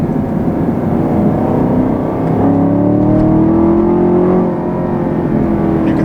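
A 2020 Chevrolet Camaro 2SS with a 10-speed automatic accelerating hard, its engine note climbing steadily in pitch as it pulls through a gear, loud and close, then dropping back after the shift.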